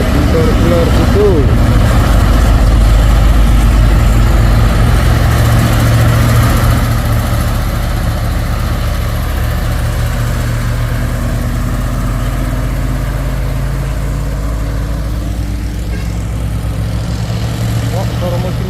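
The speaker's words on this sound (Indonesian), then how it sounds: "suara mesinnya loh. Luar biasa." A loaded truck's engine rumbles continuously and loudly from close by on a hillside, a deep steady idle-like drone with slight shifts in pitch, holding for nearly twenty seconds.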